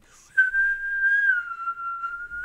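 A single long human whistle from the 1992 animated film Freddie as F.R.O.7, one sustained clear tone that wavers slightly in pitch, starting abruptly and holding steady for about two seconds alone.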